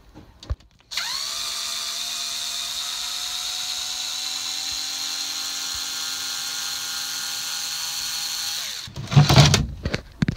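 A power drill whines in one long steady run while screwing a plate onto a boat's rudder stock. It starts sharply, holds an even pitch for about eight seconds, then stops, followed by clattering handling noise.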